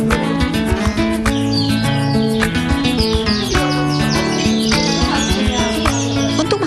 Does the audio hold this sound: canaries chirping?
yes